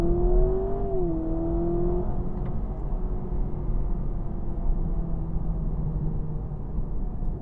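Inside a 2026 Honda Prelude in sport mode, the engine note climbs in pitch early on as the car accelerates, then settles into a steady drone over tyre and road noise.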